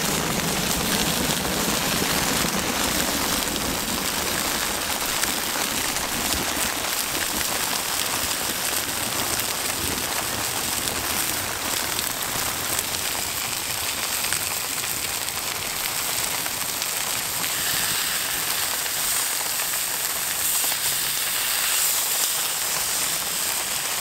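Steady rain pattering and hissing on surfaces, likely tent or tarp, during a wilderness canoe trip crossing Labrador, loud, dense and continuous throughout with no talk.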